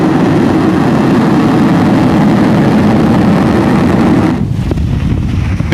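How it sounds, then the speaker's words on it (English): A SpaceX Falcon 9 rocket lifting off from Vandenberg gives a loud, steady, crackling roar with heavy low rumble and wind buffeting, easing slightly toward the end. "And liftoff of Falcon 9."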